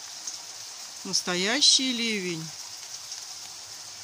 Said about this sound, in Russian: Расходился дождь и разошелся. Ливень он пошел.